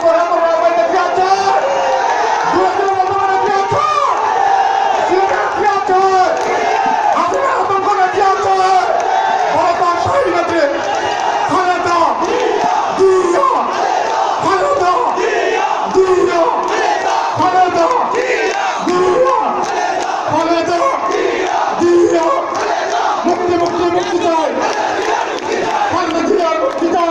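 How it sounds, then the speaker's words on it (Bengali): A large crowd at a political rally in Sylhet chants slogans, dense massed voices shouting in a steady rhythmic call, loud and sustained throughout without pause. "সকালে আমার সাথে স্লোগান ধরুন"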